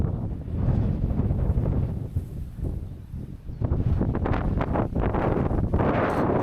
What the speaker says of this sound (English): Rain's over, still very windy.